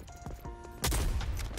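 Shotgun blast in the Rogue Company shooter game, one sudden loud boom after a stretch of quieter game sounds with faint tones, its roar lingering to the end.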